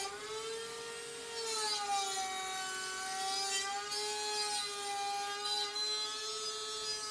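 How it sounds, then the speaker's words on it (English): A power saw whines at a steady pitch during a plunge cut into a kitchen cabinet for a trash can installation, a sustained tonal hum that wavers slightly in pitch, moderately quiet and heard alone. "So here's my plunge cut."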